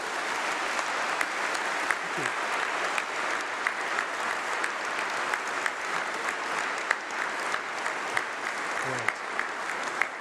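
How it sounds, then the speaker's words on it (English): A hall full of people at a winter graduation ceremony claps continuously and loudly for about ten seconds, with a brief spoken thanks over the steady applause. "can we all give them a round of applause to thank them for their input?"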